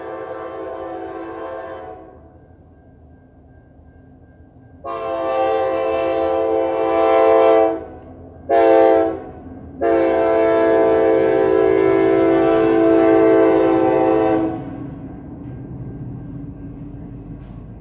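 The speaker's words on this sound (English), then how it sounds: "as the train actually comes through" A train rumbles past close by while its loud horn sounds in several blasts: one short, a long one, a brief hoot, then a long sustained blare.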